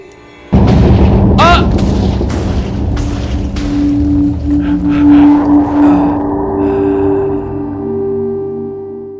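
A TNT explosion in Minecraft bursts suddenly with a heavy boom, followed by a string of sharp crackling blasts and a lingering rumble that slowly fades out.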